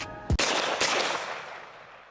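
A single loud gunshot rings out outdoors during a dove hunt in Jamaica, a sharp close blast followed by a second crack and a long decaying echo.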